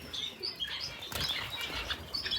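Finches flutter and flap their wings inside a quarantine cage, a close, busy patter of wingbeats with a few faint chirps mixed in.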